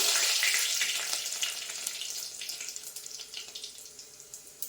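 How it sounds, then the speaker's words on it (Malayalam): Garlic fries in hot oil in a clay pot after mustard seeds have popped, Palakkad style. A loud, close sizzle starts strong and gradually settles into a softer, crackling fry. "കടുക് പൊട്ടി കഴിഞ്ഞിട്ട് ഞാൻ വെളുത്തുള്ളി ഇട്ട് കൊടുക്കാണ്"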